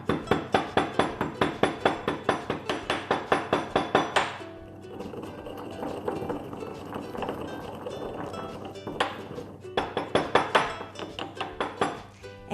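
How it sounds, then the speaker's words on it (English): Cardamom is pounded by hand for idli batter in quick, steady, hard thuds that ring slightly. A bout of pounding is followed by a pause, then the rhythmic strikes resume. "I'm just going to pound it up now."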